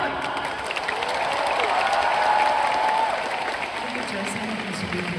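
A concert audience at a singer's thank-you show applauds and cheers for the backstage team, a continuous roar of clapping with crowd voices and a faint sung note rising through it.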